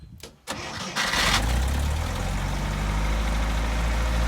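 An International Scout engine starting in the snow: a brief crank, then it catches and settles into a loud, steady idle close by.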